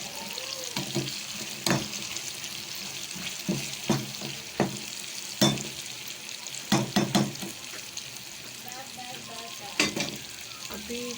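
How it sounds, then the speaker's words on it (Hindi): Tadka tempering sizzling as it is made for khichdi, a steady close hiss of hot oil with scattered pops and clinks of utensils, moderately quiet, no talk heard. "फिर हम तड़का लगा देते हैं बस खिचड़ी को।"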